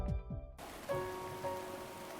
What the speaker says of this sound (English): The next morning, it was raining heavily.